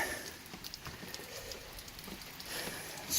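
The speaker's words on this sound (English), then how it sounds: "It's friggin' raining like crazy." Heavy rain falls steadily in a dense, hissing wash, faint and continuous, with scattered patters on a nearby surface and no voices.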